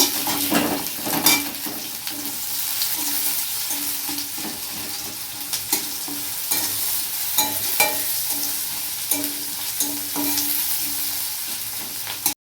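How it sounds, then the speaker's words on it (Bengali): Chopped onions fry in oil until brown, with a loud continuous sizzle and repeated scrapes and clinks of a spatula against the pan throughout. "আর আমি ওই তেলেই পেঁয়াজ কুচিগুলো দিয়ে ভেজে নিচ্ছি।"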